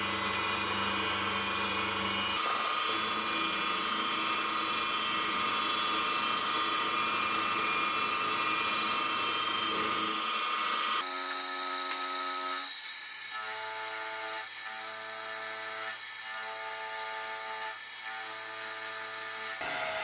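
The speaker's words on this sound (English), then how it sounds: "I'll stand the part up so I can cut the slot for the vise arms." A milling machine cuts a slot in a steel part for a jeweler's hand vise, lubricated with spray cutting oil, producing a steady high-pitched whine and grinding that shifts in tone partway through, continuous and close with no talk.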